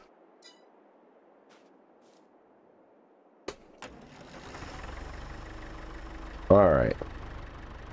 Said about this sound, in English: Fully upgraded tractor.